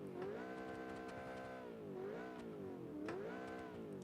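A supercar engine in the Automation car-building game revs up and down in smooth, rising and falling sweeps, a strong harmonic exhaust note swelling three times without any talk.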